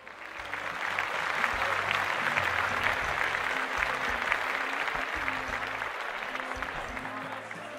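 Sustained applause from a crowd of guests at a quinceañera celebration in a Houston event hall, steady and dense throughout without letting up.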